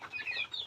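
Desi chickens cluck softly on a farm, a brief faint burst of bird calls with no talking.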